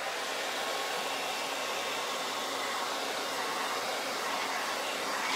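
A hair dryer blows steadily on a painted large mason jar hanger, a continuous close broadband whoosh holding even loudness throughout with no talk.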